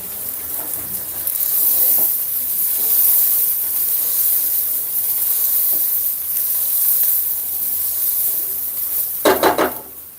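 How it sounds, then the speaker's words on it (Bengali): Onion paste fries in a pan for a chicken roast, giving a continuous hissing sizzle close up, with occasional stirring scrapes and a few clatters of a utensil against the pan near the end. "এই জন্য পেঁয়াজের পেস্টটা ভাজার সময় একটু সময় নিয়ে তারপর ভেজে নেবেন।"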